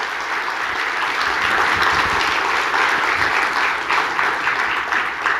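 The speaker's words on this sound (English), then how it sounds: "if we give a big round of applause." Conference audience at a PostgreSQL developer event applauds at the end of a talk, loud and dense clapping from a packed room, sustained and even throughout.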